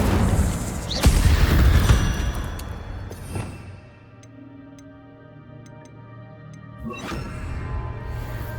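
In the Hogwarts Legacy video game, an Incendio fire spell bursts with a sharp booming crack, then a rushing fiery roar that fades into quieter ticking game sounds before another whooshing burst near the end.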